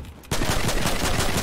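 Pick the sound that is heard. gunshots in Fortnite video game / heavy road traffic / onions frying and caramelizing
gunshots in Fortnite video game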